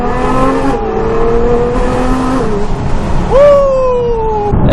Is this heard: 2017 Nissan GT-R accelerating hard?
yes